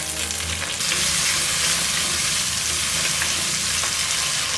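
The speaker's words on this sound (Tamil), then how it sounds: "இந்த தக்காளி வெங்காயம் வதங்கும் போது" Small onions and tomatoes sauté in a hot pan for spinach-style greens sambar, giving a steady, loud, close sizzle and frying crackle with light stirring throughout, no voices.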